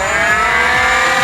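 Flywheels of a Nerf Stryfe knockoff blaster spinning up on the rev trigger, a loud, close, steady motor whine that holds throughout the short moment.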